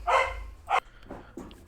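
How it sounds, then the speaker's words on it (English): A dog barks excitedly indoors, two loud close barks followed by softer yips and whines, with no talking over it. "my dog seems to be excited"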